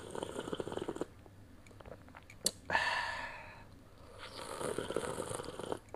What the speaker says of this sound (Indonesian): Saya akan seruput dulu jahe merah saya.